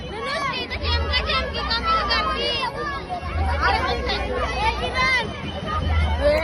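Dense crowd hubbub at a busy village fair (jatra), with many voices chattering and overlapping close by over a low mechanical rumble, and people nearby talking throughout.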